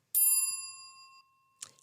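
A bright bell ding rings out once, sustaining and fading over about a second, followed by a shorter second metallic chime; a notification bell sound effect, clear and alone with no talk.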